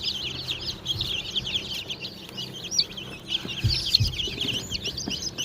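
Chicks peep in a rapid, high, continuous chorus close by, while a hen clucks now and then and soft rustling and handling noises come through beneath.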